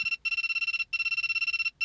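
A privacy pen hidden camera detector beeps rapidly as it picks up a phone's transmission signal, giving fast, loud, high-pitched chirps in repeated bursts separated by brief pauses.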